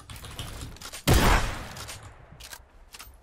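A Fortnite gunshot in a creative warmup course lands as one sharp loud blast with a short decaying tail, framed by faint rapid keyboard and mouse clicks before and after.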